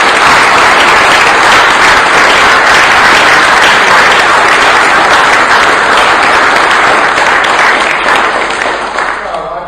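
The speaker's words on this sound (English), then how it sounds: "Will you please give another big round of applause to show your" Sustained, loud applause from an audience following a talk on animal rights, dense clapping filling the room for nearly ten seconds before tapering off at the end.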